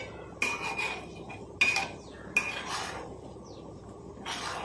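A metal spoon clinks and scrapes against a pot of simmering black cumin hair oil three or four times at uneven intervals, close and fairly quiet.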